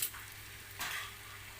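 Soy sauce splashing into pancit bihon frying in a pan, a soft burst of sizzle at the start and a louder hiss rising partway through over a low steady background hum.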